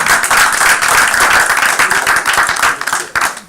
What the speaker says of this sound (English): Please give all of our elders a round of applause.